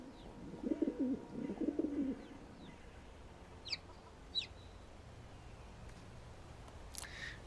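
A pigeon coos briefly in modded Skyrim, a short throaty burst at the start, followed by faint scattered high chirps over a quiet ambient bed with no talking.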